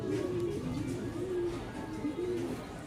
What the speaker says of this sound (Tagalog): Ito yung ibon,